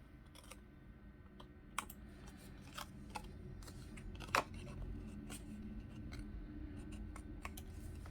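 Scissors trimming scraps of pattern paper for a handmade Hawaiian shirt card, a quiet run of small crisp snips and paper rustles spaced irregularly over a low steady room hum, with one slightly louder cut near the middle.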